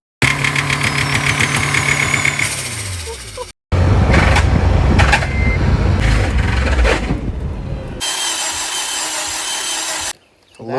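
A Honda CRF100 dirt bike engine revs hard at full throttle, loud and close, roaring through several bursts with a brief cut near the middle and a sudden drop out toward the end.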